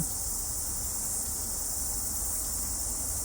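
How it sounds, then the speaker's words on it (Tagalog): Crickets chirping in a New Zealand forest reserve in the late afternoon, a dense, continuous high-pitched trill that fills the scene at an even loudness. "Naririnig nyo po yung mga kuliglig dito."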